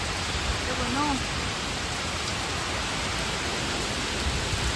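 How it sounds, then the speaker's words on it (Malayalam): Heavy, dense rain hisses continuously and evenly, with a faint bird call briefly heard near the start. "നല്ല മഴയും എനിക്ക് ഭയങ്കര ഇഷ്ടമുള്ള ക്ലൈമറ്റ് കേട്ടോ"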